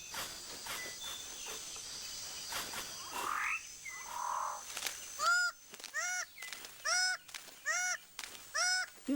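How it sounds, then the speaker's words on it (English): Male six-plumed bird of paradise in rich forest, giving a series of about five repeated, clear rising call notes in even rhythm, following a stretch of mixed forest insect and bird noise. "That leaves the male six-plumed bird of paradise with time to concentrate on other matters"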